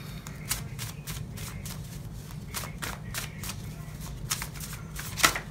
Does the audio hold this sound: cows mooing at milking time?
no